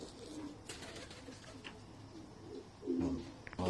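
Pakistani pigeons coo in low, throaty calls, faint at first and louder and closer near the end, with someone talking softly over them.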